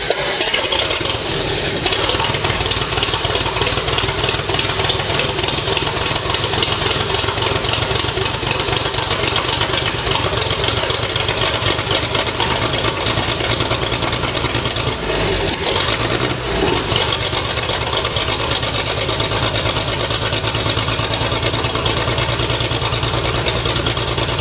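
Hetzer Jagdpanzer 38 tank destroyer engine running loud and close, a steady rough idle with dense mechanical clatter lasting throughout, with a brief dip partway through.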